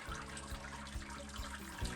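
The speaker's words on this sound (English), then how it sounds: "And with this sparge, basically pour it around the top basket like this." Hot sparge water poured over a grain basket during all-grain brewing of an IPA, a continuous splashing, trickling flow close by, steady and unbroken throughout.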